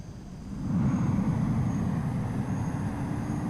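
Steady cockpit engine drone inside a simulated airliner just after touchdown, a broad even rumble that swells in over the first second and holds close and constant with no talk.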